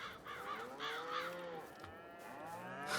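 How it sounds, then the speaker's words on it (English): Cattle low repeatedly on an Iowa farm, with several drawn-out moos from more than one cow at middling distance, joined by a few crow caws against a steady outdoor background. "But we have cows now."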